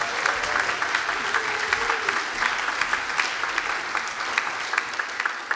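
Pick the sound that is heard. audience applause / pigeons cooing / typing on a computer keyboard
audience applause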